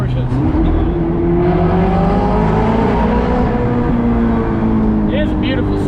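A Ferrari engine running and rising in revs, loud and close, with people talking over it.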